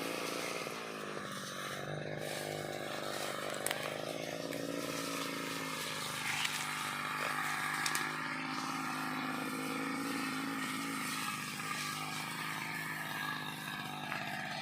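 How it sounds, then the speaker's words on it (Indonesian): A grass-cutting machine's small engine drones steadily and loudly throughout, with a continuous buzzing roar that shifts slightly in pitch, heard outdoors among tall durian and avocado trees. "Ini mesin pemotong rumput Pak Ram"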